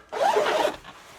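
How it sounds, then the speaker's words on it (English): A zipper on the privacy screen of a 2026 Airstream Basecamp 16X trailer is pulled in one quick, close rasping stroke that stops, followed by faint rustling. "So you pull it up here, pull the zipper"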